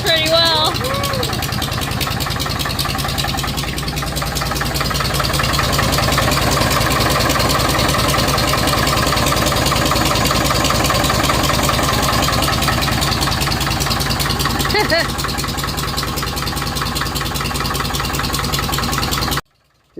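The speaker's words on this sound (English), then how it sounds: "we've actually got this engine running pretty good" A 1951 International TD9 crawler's gas/diesel engine idles steadily and loud for nearly twenty seconds, a continuous low chugging drone that stops abruptly at the end, with a voice talking over it early on.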